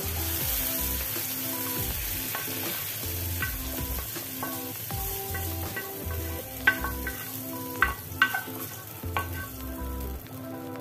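Tomatoes sizzle while being sautéed in a pan, a steady close frying hiss broken by occasional scraping stirs and sharp clinks of a utensil against the pan.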